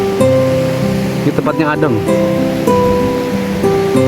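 Waves at Batu Hideung beach, a black-cliff shore in the south, wash as a soft steady surf beneath someone speaking throughout, with music playing over it.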